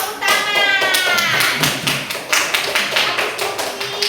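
Children clap their hands in a classroom lesson, a rapid series of sharp, close claps that settles into a loose rhythm, with young voices calling out over it.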